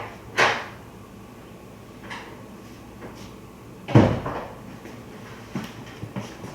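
Interior door in a home shutting and then opening again, two distinct thumps a few seconds apart with faint handling clicks between, close and fairly loud in a quiet room.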